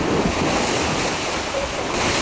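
Storm waves and strong wind on the Kumbahçe shore, a loud continuous roar of surf and gusting wind buffeting the microphone, with no voices.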